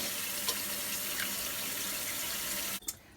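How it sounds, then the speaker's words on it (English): Tap water runs into a cooking pot being filled for quinoa, a steady close hiss that holds evenly before cutting off with a brief clunk near the end. "Add some water all the way up to that first line."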